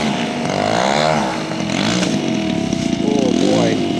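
A scale model aircraft engine throttles up at an outdoor scale aircraft show, a steady buzzing whine that rises and wavers in pitch, loud and continuous under a commentator's talk.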